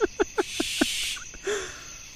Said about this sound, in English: that is a screech owl